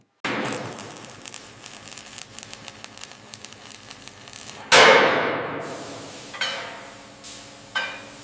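Metal-on-metal clangs and impacts from riveting during Boeing 737 MAX 8 aircraft assembly, with a sustained noisy stretch of working sound, then a loud sharp burst followed by a few separate strikes fading out.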